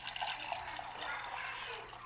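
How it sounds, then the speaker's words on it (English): Cold water pours steadily over almonds in a container to soak them, a soft continuous trickle and splash at low level, heard alone. "Cover with cold water."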